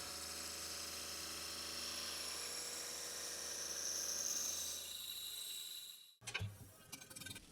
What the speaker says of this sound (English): so these are going on the mill to remove a few millimeters from the short side.